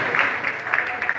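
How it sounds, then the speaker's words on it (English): Audience clapping at a Malaysia Fashion Week press conference, a brief moderate round of applause from a small crowd. "Big round of applause."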